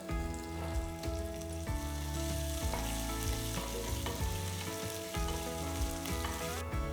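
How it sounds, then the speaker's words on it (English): Cumin seeds, chopped green chillies and pounded ginger fry in hot ghee with a busy, crackling sizzle up close, while a spoon clatters and stirs through the pan almost without pause. "1 tablespoon of ghee. To this I am going to add 1 tablespoon of jeera. Next, add 2 green chillies chopped"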